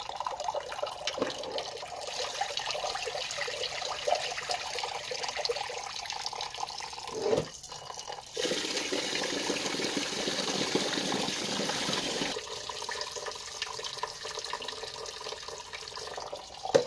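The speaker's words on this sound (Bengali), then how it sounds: "তাই কাঁকড়গুলো ভালো করে বেছে নিয়ে চালটা ধুয়ে নিলাম।" Rice is washed under a running kitchen tap, giving a steady rushing stream of water that swells louder for a few seconds as grains and water are stirred, close and continuous with no talking.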